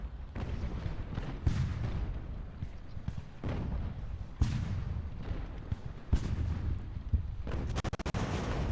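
Artillery fire in Ultimate General: American Revolution, mortar-style cannon booms going off at irregular intervals, several heavy thuds with rolling battle noise and crackling between them.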